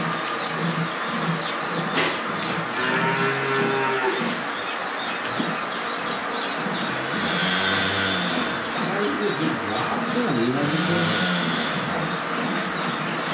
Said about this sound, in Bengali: বড় বড় গাভী সব আমার খামারে